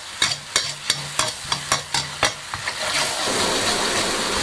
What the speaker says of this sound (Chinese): 开小火把黑胡椒汁炒到粘稠